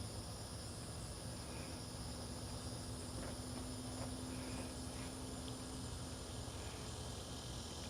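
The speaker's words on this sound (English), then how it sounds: "Sorry if y'all can hear the crickets and everything" Crickets chirp outdoors at night in a dense, continuous high trill that holds steady throughout over a faint hiss, with no talking.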